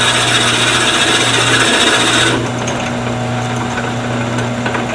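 A drill bit bores into a wooden vase spinning on a lathe, giving a steady, close rasping scrape that drops in intensity about halfway through as the cut eases.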